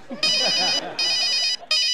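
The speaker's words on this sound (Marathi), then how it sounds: "परत कोणाचे फोन वाज हाडटाय" A telephone rings in three repeated electronic bursts, loud and close, with a short pause between each, while a voice talks underneath.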